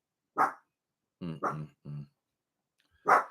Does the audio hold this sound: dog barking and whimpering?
yes